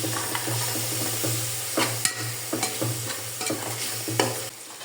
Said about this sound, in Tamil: இதில் கொஞ்சமாக தயிர் சேர்த்து வதக்கிக்கலாம்